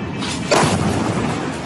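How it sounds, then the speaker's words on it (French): A missile strike in Israel produces a sudden, loud, broadband explosion burst followed by a dense rumbling roar that carries on without any voices. "Explosion et destruction en Israël."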